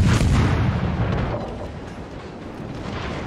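Secondary guns on a warship in World of Warships, firing at a US destroyer, form a heavy rumbling wash of booming artillery, loud at first and settling into a continuous dense roar.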